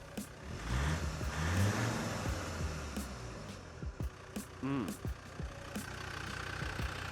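A Land Rover Discovery engine runs at a low, steady idle. People talk over it early on, and a few knocks and clicks come through later.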